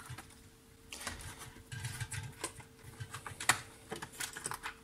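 Small wide-ferrule screws being unscrewed from a Tascam Portastudio 424 Mk II cassette recorder during teardown, giving light scraping and clicking taps at close range in irregular bursts, with a few sharper ticks.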